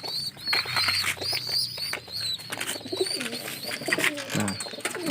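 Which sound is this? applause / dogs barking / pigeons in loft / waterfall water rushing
pigeons in loft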